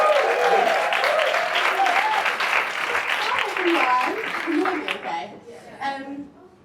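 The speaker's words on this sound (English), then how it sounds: "So can we have a big round of applause for our first speaker?" An audience at a women-in-sales talk breaks into loud, sustained applause for the first speaker, a dense crowd clapping that fades near the end as a voice begins.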